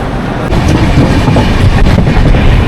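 The 12903 Golden Temple Mail running from Mumbai toward Amritsar, a loud, steady rumble of carriages heard from inside the train with a faint rhythmic clatter of wheels, no speech.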